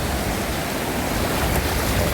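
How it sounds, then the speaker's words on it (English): Ocean waves crash in a steady, loud wash of surf with no talking, a continuous roar that swells slightly over two seconds. "This water is crashing."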